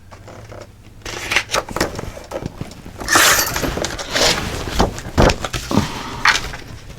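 Paper being cut for a handmade mini album, heard as a series of close, crisp snipping and rustling bursts with brief pauses between them.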